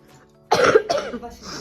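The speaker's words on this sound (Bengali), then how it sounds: "কাশি আরো বেড়ে গেছে" A person with a worsening cough lets out a single close, harsh cough, followed by a shorter second rasping cough and a brief throaty breath.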